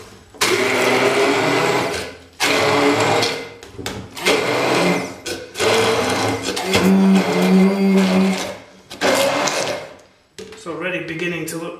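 A blender whirs through pesto ingredients including pine nuts in repeated loud pulses of a few seconds each, separated by brief pauses.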